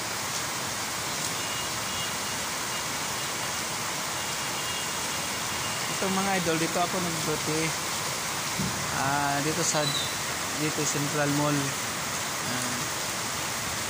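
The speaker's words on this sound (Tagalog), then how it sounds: "Lakas ng ulan." Heavy rain pours steadily as a dense, even hiss near Central Mall, with someone speaking briefly over it partway through.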